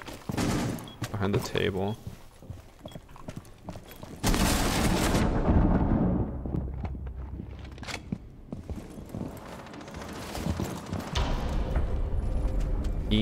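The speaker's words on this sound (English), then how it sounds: "I thought he got that kill with the hip fire there" Rapid LMG-E light machine gun bursts in a Rainbow Six Siege match, dense sustained gunfire with loud stretches, heard alongside players talking.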